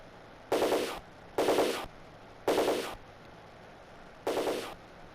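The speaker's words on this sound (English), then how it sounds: "of course there's the sentry guns everywhere" Sentry guns in The Terminator Sega CD game fire four separate half-second bursts of rapid gunfire, loud and close, with short quiet gaps between them.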